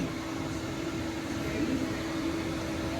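A steady, even whirring hum runs throughout from an electric vehicle's cooling fan spinning at constant speed, with no other sounds breaking through.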